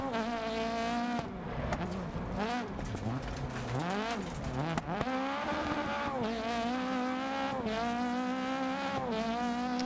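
A rally car engine in DiRT Rally 2.0 rallycross drones and shifts pitch steadily throughout, rising and falling with gear changes, with game-like engine tone and no talking.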